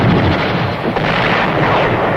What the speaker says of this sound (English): The incoming artillery fire,